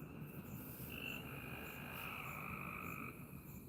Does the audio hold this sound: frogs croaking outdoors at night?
yes